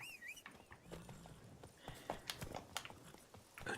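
Roach the horse clops along in The Witcher 3, faint uneven hoofbeats and thuds with a soft snort or rustle mixed in, quiet and fairly close, and a voice speaks briefly over it.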